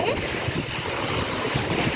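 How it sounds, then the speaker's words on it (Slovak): Waves washing onto a clean beach at Pat, Croatia, with steady wind buffeting the microphone; continuous, fairly loud surf and gusty rumble with no talking. "tak troška fúka, sú vlny"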